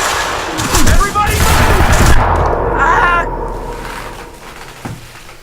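Bursts of automatic gunfire in the video game Quantum Break, loud and close with booming echoes that fade toward the end, mixed with voices in the background.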